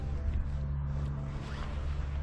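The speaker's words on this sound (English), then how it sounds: "just close this zipper" A zipper is drawn shut on a motorcycle handlebar mitt, a faint continuous rasping slide over a low steady hum of background noise.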